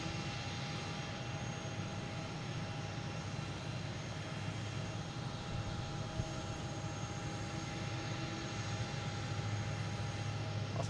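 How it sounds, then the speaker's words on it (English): An American Airlines Airbus A321neo arriving from Phoenix at Boston Logan produces a steady, far-off engine roar. It holds an even rumble and faint whine for about eleven seconds with no voices. "we have this American coming in from Phoenix,"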